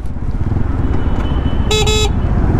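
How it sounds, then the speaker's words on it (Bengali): A GTXL V4 Special Edition sports motorcycle's horn gives a short, fairly weak double toot near the end, over a steady low engine and road rumble. "এই যে হর্নটা শুনতে পাচ্ছেন"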